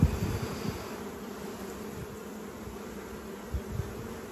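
Honey bees buzz inside an open hive during queen rearing, a dense, steady drone close by that fills the whole clip, with a few brief handling knocks and no talk.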